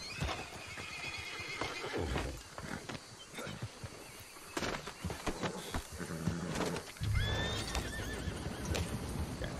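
A horse in a video game neighs and whinnies amid clip-clopping hooves, set against a busy mix of other game sounds, with loud bursts throughout.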